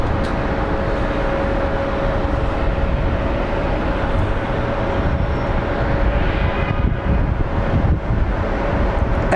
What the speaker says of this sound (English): we are about to get some pushback action of the Southwest flight that we were looking at earlier